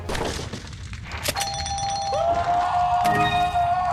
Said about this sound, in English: waited for the bell to ring